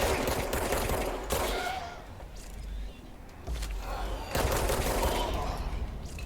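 Bursts of enemy gunfire in the action game Control, sustained automatic shots crackling loud and close with brief lulls between volleys.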